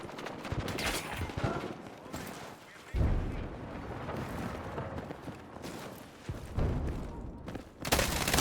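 KORD-6P67 rifle firing in Battlefield 6, repeated bursts of rapid shots and loud blasts in a busy combat scene, with heavy impacts and short pauses between volleys.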